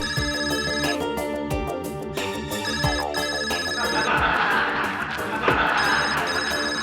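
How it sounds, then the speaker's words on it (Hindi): A phone ringtone plays loudly and continuously in a courtroom, a repeating electronic melody with layered tones. "किस बदतमीज का ये फोन है? बंद करो उसको।"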